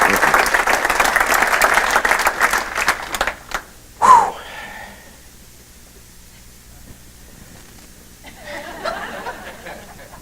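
An audience at a leadership breakfast applauds to welcome speaker Chad Pregracke, with dense, steady clapping that swells and then dies away after about three seconds, leaving a quiet room with a faint stray sound near the end.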